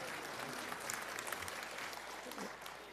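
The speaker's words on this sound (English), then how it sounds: "Oh, wow, they're already clapping" A church congregation at a Sunday morning service claps continuously, a dense, even patter of many hands heard at moderate distance, with faint voices mixed in.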